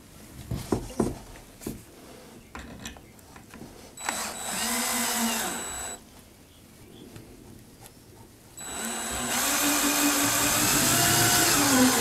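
A power drill drives mega screws into an ultra-light tool-storage shelf in two sustained whining bursts, preceded by scattered knocks and handling clatter close by.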